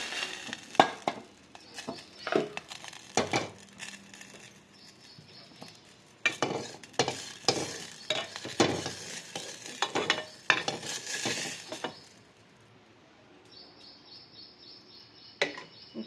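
Vegetables and tamarind are sautéed and stirred in a pan for Karnataka-style tomato bath, with bursts of spoon clatter and scraping over a soft sizzle, then a quieter stretch with only faint frying and occasional knocks.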